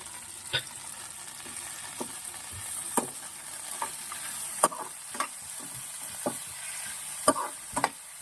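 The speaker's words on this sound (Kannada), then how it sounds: "ಇದನ್ನೆಲ್ಲನೂ ಚೆನ್ನಾಗಿ ಬಾಡ್ಕೊಳ್ಳೋಣ ಎಣ್ಣೆಯಲ್ಲಿ" Green chilies, cashews, about ten garlic cloves, an inch of ginger and tomato fry in oil for a chicken dish, a steady sizzle broken by intermittent spatula scrapes and clinks against the pan.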